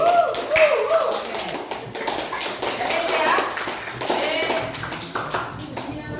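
A school class claps in quick, scattered bursts close by, mixed with voices of children and an adult teacher speaking.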